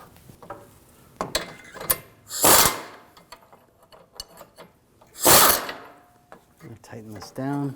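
Ratcheting clicks from a wrench tightening a nut and bolt on the rear brakes of a 2006-2009 Audi S4 4.2L V8, with short bursts of rapid ratchet action and scattered metallic clinks nearby, no voices.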